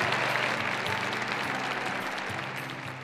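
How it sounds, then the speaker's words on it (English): At a 2012 awards celebration for top companies for executive women, a ballroom audience keeps up steady applause with a soft undercurrent of music, constant and moderately distant, with no distinct shouted cheers standing out. "Let me hear a big cheer."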